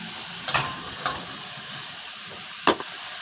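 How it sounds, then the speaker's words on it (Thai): Mushrooms, eggs and sliced chili stir-frying in a pan over medium-high heat: a loud, continuous sizzle with three quick scraping strokes of a utensil spaced through it. "ใช้ไฟกลางค่อนไปแรงเลยนะครับ ใช้เวลาไม่นานในการผัดนะครับ"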